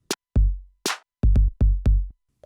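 A hip hop beat plays, with booming kick drums under snappy claps and snare, heard as a quick uneven pattern of deep thuds and bright cracks, loud and alone without speech.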